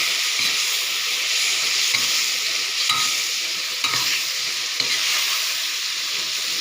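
June beetles fry in hot oil, producing a loud, steady crackling sizzle with regular stirring scrapes roughly once a second, no voices present.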